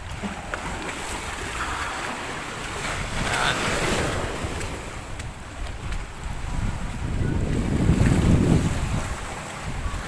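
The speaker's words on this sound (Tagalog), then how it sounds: "medyo maalon pala ngayon. Malakas ang tubig dito ngayon." Strong, choppy water at a lakeside grotto in Laguna, a continuous wash of waves with gusting wind buffeting the microphone, swelling louder toward the end.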